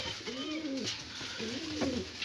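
Pigeons coo softly nearby, two rolling low calls separated by a short pause, over a constant background hiss.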